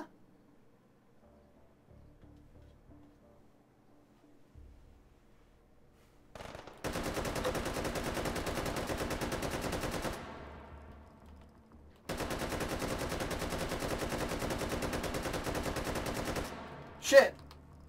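DP-28 light machine gun in the VR game H3VR, firing two sustained automatic bursts of about three and four seconds each, loud and close, separated by a pause, with a sharp clank at the end.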